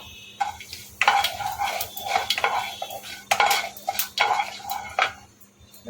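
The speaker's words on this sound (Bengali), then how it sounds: "সর্ষে জিরেটা হালকা করে নেড়ে নিয়ে তারপরে কারি পাতাটা দেবো" Mustard seeds and cumin are stirred in hot oil in a pan for tempering, a spatula scraping the pan in repeated close strokes with light metallic clinks and a faint crackle underneath.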